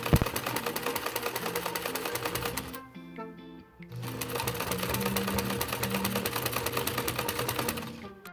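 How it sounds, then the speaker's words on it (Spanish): A sewing machine stitches along the full length of an elastic-thread shirred dress, a rapid mechanical chatter running steadily, pausing briefly for a second with a few clicks, then resuming at the same pace. "así que ahora sí voy a pasar costura por todo el largo del vestido."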